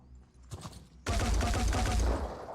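A regular gun fires in Phoenix Point, a burst of rapid shots that starts abruptly after a second of quieter background and holds loud and dense to the end.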